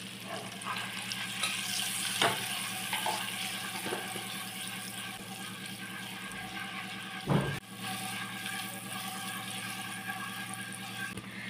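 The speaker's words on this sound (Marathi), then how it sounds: "आता अंडी ऑलमोस्ट रोस्ट झालेली आहेत." Eggs roast in a pan with turmeric and Kashmiri chilli powder, giving a steady low sizzle and frying hiss throughout, with one brief louder clatter partway through.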